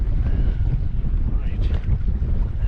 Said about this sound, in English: That wind is making things difficult on us.